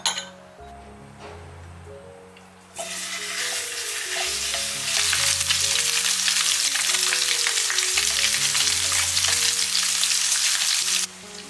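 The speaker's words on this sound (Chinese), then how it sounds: "五花肉煎到表面金黄" Pork belly slices sizzling loudly in a hot pan, a strong steady fry that starts after a clink of utensils and continues nonstop under light background music.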